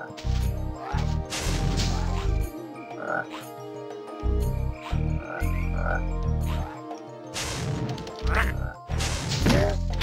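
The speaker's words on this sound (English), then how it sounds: "Are these frogs like harmless?" Frogs croak in a PlayStation video game, a loud, repeated run of deep croaks mixed with crashing, whacking game effects and music.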